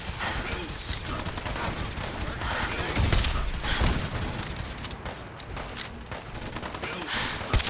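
Dense gunfire from the Fallout 4 video game, with rapid overlapping shots and bursts forming a continuous loud barrage, with a voice faintly mixed in beneath the shooting.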